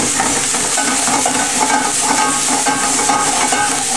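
Chili sauce frying with seitan in a pan, a steady close hiss of sizzling with scraping stir sounds running throughout, no talking.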